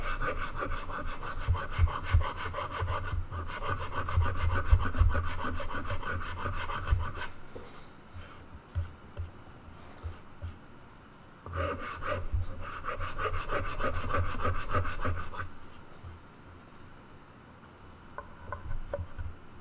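A rasp scrapes wood to shape the tummy cut on a guitar body, close and rhythmic, in two long bursts of quick back-and-forth strokes separated by a quieter pause.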